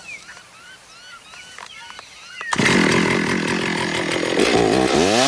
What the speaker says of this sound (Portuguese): Por essa razão nós vamos utilizar uma motosserra.